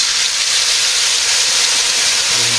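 Turmeric, chili and coriander powders fry in a hot pan, giving a loud, steady, unbroken sizzle with no voices.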